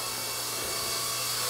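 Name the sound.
Blade 120 SR radio-controlled helicopter flying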